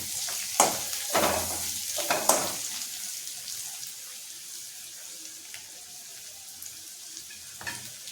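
Turmeric is stirred in a hot pan for a pumpkin bhaji, giving faint sizzling with a few sharp scrapes of the spoon early on and another near the end.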